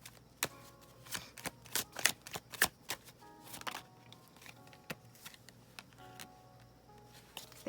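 Tarot cards are shuffled close up in a run of crisp riffling bursts and soft slaps, irregular and busiest in the middle, with no talking.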